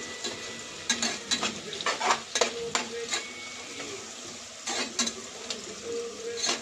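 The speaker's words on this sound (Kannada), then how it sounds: "ಈರುಳ್ಳಿ ಚೆನ್ನಾಗಿ ಫ್ರೈ ಆಗಿದೆ." Onions fry in a pan with a soft steady sizzle, broken by frequent spatula scrapes and taps against the metal in irregular bursts, close by and fairly quiet, with no talking.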